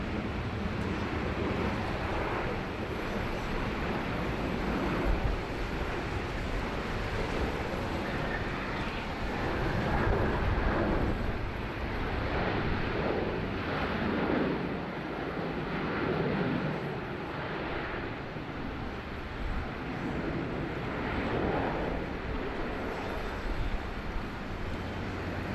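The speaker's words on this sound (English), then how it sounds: "Next arrival there, just coming through the heavy showers. Qantas 737-800." A Qantas Boeing 737-800 arrives at Sydney Airport through heavy rain showers, its engine roar a steady broad drone that rises and falls slowly over a long stretch, with no voices.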